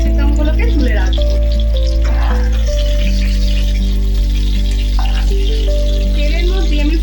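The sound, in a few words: frying whole garam masala, cinnamon, cloves, cardamom in oil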